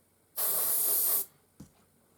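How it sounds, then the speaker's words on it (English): A spray can lays a paint coat onto a model in one steady hissing burst of just under a second, followed after a pause by a short low knock. "I'll put 2 coats of that on. And while I'm here, I will spray up another one because I have loads of these."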